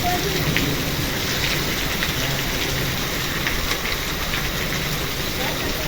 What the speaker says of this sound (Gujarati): જો પાછો વરસાદ વધવામાં છે